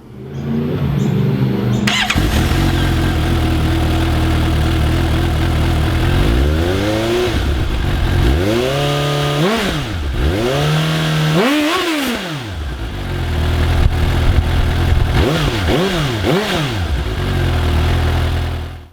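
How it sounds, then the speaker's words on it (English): A Suzuki GSX-S750 motorcycle engine starts with a quick crank and settles into a loud idle, then gets several sharp throttle revs rising and falling, close by. "here's what the GSX-S750 sounds like"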